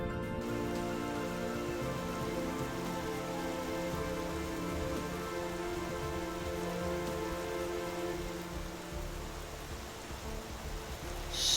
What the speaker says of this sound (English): the vibe I'm getting is that it rains more in the summer